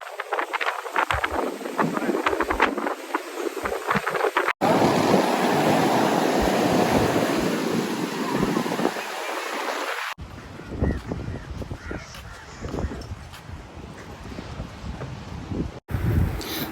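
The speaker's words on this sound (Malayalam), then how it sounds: "ഇപ്പോൾ ഇവിടെ നല്ല കാറ്റുണ്ട്." Strong wind at a beach near Dhanushkodi, Rameshwaram, roaring and buffeting the microphone in heavy gusts, with surf breaking underneath and shifting in level across the scene.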